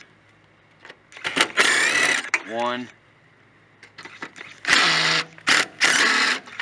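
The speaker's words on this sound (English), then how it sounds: "If you have a drill, use your drill." A power drill backs out 7/16 bumper filler screws on a Cadillac Eldorado, with bursts of whirring and ratcheting in short separate runs, close and loud, and a man counting briefly between them.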